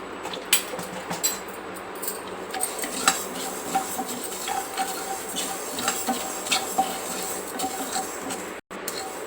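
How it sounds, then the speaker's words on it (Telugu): Mustard seeds fry in a pan for tomato pickle as a spoon stirs and scrapes against the metal, with light sizzling and repeated clinks. "ఇప్పుడు ఆవాలు వేసుకున్నాం"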